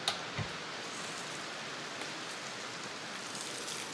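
Steady rain at a house under renovation in Portugal, water dripping onto and running down a door, heard as a continuous hiss of rainfall with a couple of soft nearby drip knocks near the start.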